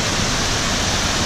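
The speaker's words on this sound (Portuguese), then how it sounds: "Essa cachoeira também é uma obra de arte" The Cachoeira do Postinho waterfall in Sengés, Paraná, roaring as a dense, loud, unbroken wash of falling water that stays constant from start to finish, with no one talking.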